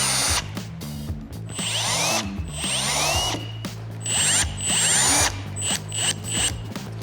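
A power drill tightens the tail light screws on a Toyota FJ62 Land Cruiser in short repeated bursts, each a rising whir, with ratcheting clicks between them at close range.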